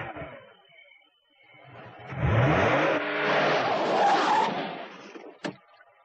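A car engine revs up and roars away, swelling loudly and holding for a few seconds before easing off, with a sharp click near the end.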